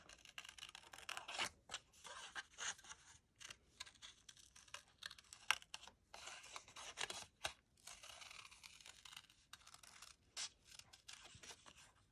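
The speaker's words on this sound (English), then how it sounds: "I'm going to be fussy cutting this out" Scissors fussy cutting around the outline of a coloured paper card, with quiet, close snips and paper rustles in irregular bursts and short pauses.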